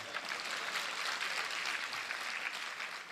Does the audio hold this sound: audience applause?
yes